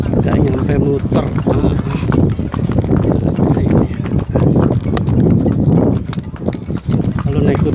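Rhythmic clip-clop of horse hooves during a horse ride at Tandon Ciater, a steady repeating beat heard close, with people talking over it.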